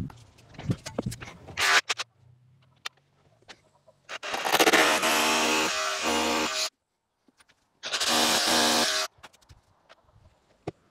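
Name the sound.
rotary hammer drill (perforator) drilling a hole in the wall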